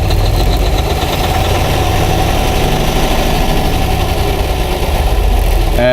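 A UD diesel truck engine idles steadily during a cylinder test run with a G-SCAN2 scan tool, giving a loud, continuous knocking rumble with rough vibration and no talk.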